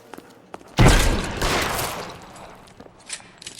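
Gunshot in the video game L.A. Noire: one loud, sharp blast followed by a rumbling tail that fades over about a second and a half, alone without speech.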